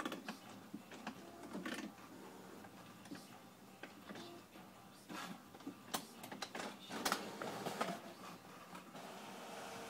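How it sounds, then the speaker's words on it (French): An HP Photosmart eStation printer starts a double-sided print with quiet whirring, clicking and rattling as gears and rollers engage and feed the sheet in uneven bursts. "Là je choisis évidemment recto verso, une copie, etc. Et là je fais imprimer."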